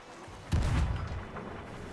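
A ship's cannon fires in the Sea of Thieves pirate video game, a single deep boom that hits sharply and rumbles away over the next second.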